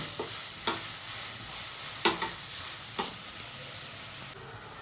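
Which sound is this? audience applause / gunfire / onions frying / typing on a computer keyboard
onions frying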